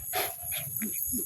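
A dog whimpers and yips softly in several short, close whines, with a voice talking quietly alongside.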